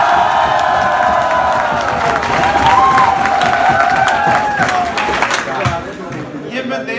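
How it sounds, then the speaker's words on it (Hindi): A college comedy-show crowd shouts, whoops and claps loudly together, a dense roar of cheering voices and applause that tapers off toward the end. "थोड़ा जोर से चिल्लाओ और जोर से बजाओ।"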